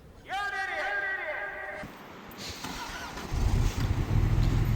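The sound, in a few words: cranking the starter of a vehicle engine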